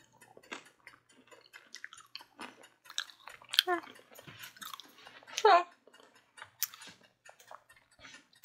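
Crunchy air-fried sweet potato fries being chewed, with several crisp bites and crackling crunches close to the mic, scattered irregularly across the clip.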